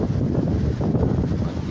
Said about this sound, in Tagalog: Lakas na amihan.